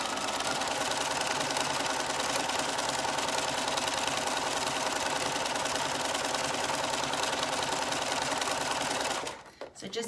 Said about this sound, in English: So just keep going with your stretch stitch all the way down your side seams